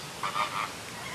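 Ducks in a 3D cartoon give a few honking, goose-like calls in quick succession, moderately loud against a steady background, with no one talking.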